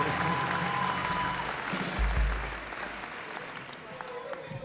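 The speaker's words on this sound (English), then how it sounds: "get a round of applause from my nieces" A round of applause at a baccalaureate ceremony, dense steady clapping from a group, with voices mixed into the noise, fading slightly toward the end.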